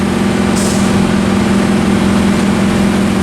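Fire engines running at a building fire in Middletown, California, a loud, steady, droning engine hum held close and unbroken throughout, with no voices.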